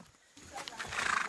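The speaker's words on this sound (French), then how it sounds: "Moi et le cheval, on est en train de marcher ensemble." A horse whinnies nearby after a quiet start, its neigh rising loud and shaky toward the end.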